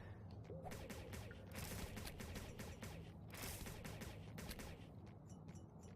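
Carbine fire in the dungeon-crawler video game CryptRunner, heard as rapid bursts of shots that stop and start again. It sounds fairly quiet and evenly mixed, with a steady game background underneath and no talk.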